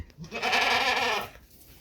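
A single drawn-out goat bleat, loud and close, wavering for about a second before fading.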